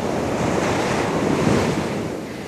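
Heavy sea waves surge and roar in a constant loud wash during a long ship crossing, with wind buffeting close by and no voices.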